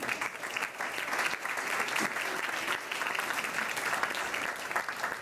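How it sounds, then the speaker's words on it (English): Steady applause from an audience greeting a speaker named Tina at a mobile app competition event, dense continuous clapping sustained throughout without a break. "So a round of applause for Tina."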